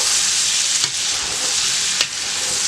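Onions stirred into sausages frying in a pan, a loud, dense sizzle that runs continuously with two brief scraping knocks from the stirring, close up and without speech.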